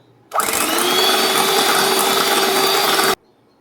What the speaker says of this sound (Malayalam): ഇതിലേക്ക് നമുക്കിനി ഒരു ആറ് ടേബിൾ സ്പൂണ് സൺഫ്ലവർ ഓയിൽ ചേർത്ത് കൊടുക്കുക ഇനി ഒന്നുകൂടെ ബീറ്റ് ചെയ്തെടുക്കാം